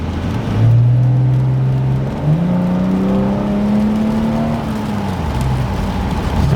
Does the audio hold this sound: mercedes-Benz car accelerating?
yes